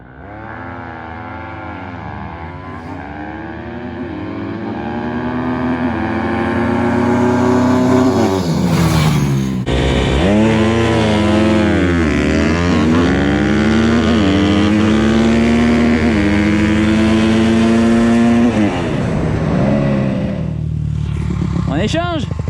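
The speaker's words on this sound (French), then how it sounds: "la petite moto démarre mieux, mais l'autre là-bas sur la durée et la vitesse" 150cc YCF SP3 pit bike and Honda CRF motorcycles accelerating and revving, loud engine pitch rising and falling in repeated sweeps over about twenty seconds, with voices talking over the engines.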